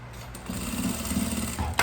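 A sewing machine runs a short, steady line of stitches through the fabric lining of a makeup bag pocket, a close mechanical whir that stops near the end.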